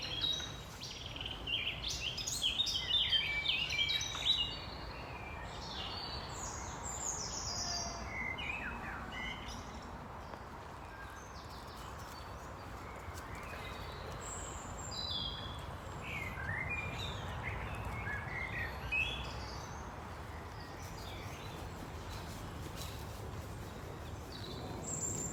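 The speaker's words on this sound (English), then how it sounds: "I'm just going to listen to the birds." Several birds chirp and sing intermittently outdoors, brighter and busier at first, then scattered calls over a soft, steady background hush.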